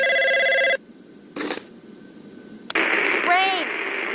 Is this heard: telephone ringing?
yes